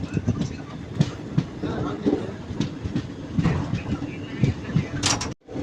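A passenger train rumbles along steadily past Vellore, with rhythmic clickety-clack of wheels on rail joints, heard from inside, ending with a brief clunk and sudden drop.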